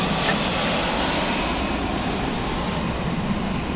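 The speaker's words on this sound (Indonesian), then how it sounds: "Suara pesawat NASA." A loud, steady broadband roar of a jet engine fills the clip without pause, like a plane heard from the cabin.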